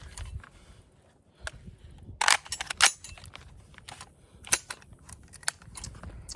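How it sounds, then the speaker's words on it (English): The action of a 903 Tactical battle rifle being cleared at a range, a series of sharp metallic clicks and clacks, a dense cluster in the middle, then scattered single snaps, close and without talk. "First thing I do with my rifle before I load it is clear it."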